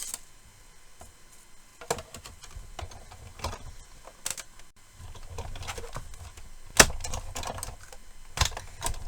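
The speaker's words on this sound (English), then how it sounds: "So all the clunking and clanking is quite normal. It's just the pressure of the machine as it rolls that through." Die cut machine rolling a piece through under pressure, giving a series of irregular sharp clunks and clicks over a quiet background, close by and moderately loud.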